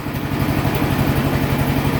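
A Peerless Tecumseh lawn tractor's small engine idles steadily and loudly with a rapid, even putter throughout, no voices present.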